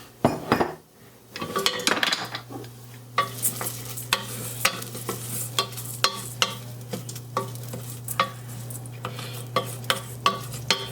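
Basmati rice being stirred and toasted with a little salt in a pot, a spoon scraping and knocking against the metal in a regular rhythm over a soft frying sizzle, close up with no talking.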